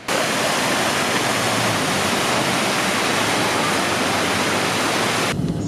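A waterfall near Jasper, Alberta, in snowy weather gives a continuous broadband roar that stays even and loud before cutting off near the end.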